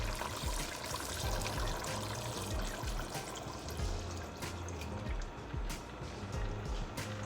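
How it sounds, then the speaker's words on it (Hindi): Strained, boiled fennel and coriander water poured into a pot of chicken and yogurt, a continuous close splashing, gurgling stream that stays fairly even throughout, with no talking. "अब इसके अंदर हम सौंफ धनिया का पानी जो हमने बॉईल किया था"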